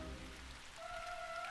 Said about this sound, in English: It looks like some rain is on the way.